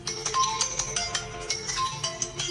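Mobile phone ringtone ringing outdoors during bird trapping, a repeating melodic chime pattern at moderate loudness over steady background noise.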